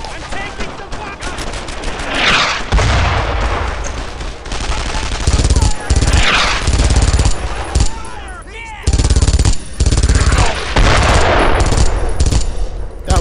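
Heavy World War II gunfire in Brothers in Arms: Earned in Arms rattles in loud sustained bursts with brief gaps, close and intense, while voices call out over the shooting.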